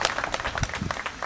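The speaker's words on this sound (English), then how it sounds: "But you clap for the performance of this chairperson." Brief, moderately loud clapping from a small audience applauding a chairperson at a university event, with uneven individual claps audible.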